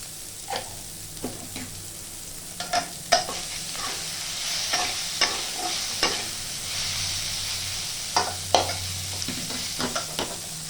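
Snake gourd cooks in a pan with poppy seed paste and chilli powder. A steady sizzle runs underneath as a utensil scrapes and knocks against the pan in irregular strokes, close up.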